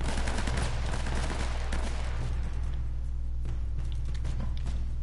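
Rapid gunfire from the Uncharted video game, a dense barrage of shots with low booming thumps running continuously, loud and close, easing briefly near the end before resuming.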